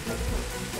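Steady rain falls in Minecraft, a faint, even hiss of drops with no clear pattern and no talking during the brief stretch.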